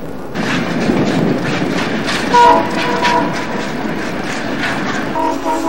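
An Alco diesel locomotive rumbles steadily along hauling another locomotive on the Adirondack Railroad, loud and close, with a brief horn-like tone partway through and rolling rail noise throughout.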